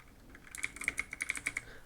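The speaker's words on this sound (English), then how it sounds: "now type here your username" Username typed on a computer keyboard: about ten quick, light key clicks in a short burst, close and quiet, with no voice.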